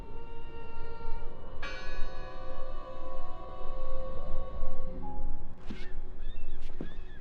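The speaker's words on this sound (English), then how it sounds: "I heard the bell!" A church bell rings in the video game Draugen, its sustained, resonant tone swelling in and hanging over a dense background. Brief honking, bird-like calls cut in near the end.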